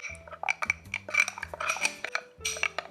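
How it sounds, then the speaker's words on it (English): Plant-based unfried rice ingredients stirred in a bowl with a utensil, giving steady close scraping and clinking of metal against the bowl in quick repeated strokes, loud and with no talk over it. "stir it up a little bit"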